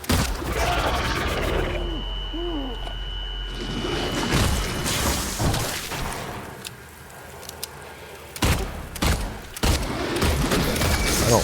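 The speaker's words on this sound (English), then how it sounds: "I should probably not be shooting it." Gunfire at a creature in the Silent Hill 2 Remake: a run of sharp, loud shots and impacts, bunched near the start and again toward the end, over a dense, dark game soundscape with a faint voice.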